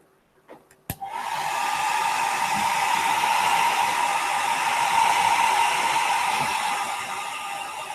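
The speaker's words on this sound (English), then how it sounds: "I'll put the hairdryer on" A hair dryer blows steadily on a watercolor still-life painting, switching on with a click after a second and then running as a loud, continuous whooshing hiss that holds for the rest of the clip with no talking.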